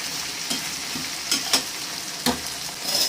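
Onions and potato pieces sautéing in a pan for a tomato and brinjal dish, with a steady close sizzle broken by a few scraping stirs of a spoon against the pan.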